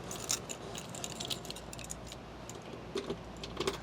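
The keys of a 1966 Chevelle SS jangle and clink in short bursts, close and fairly quiet, with no talking.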